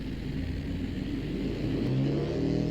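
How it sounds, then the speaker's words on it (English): Piccolina 110 racing car with a 34 bhp engine accelerating off the start line alongside other cars, a loud continuous engine drone with pitch climbing steadily, no talking. "It's an amazingly fast start from the car with 34 bhp."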